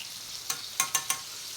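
Steak sizzles steadily in a hot pan while butter and garlic sauce is spooned over it for basting, with several sharp spatters rising out of the constant frying hiss.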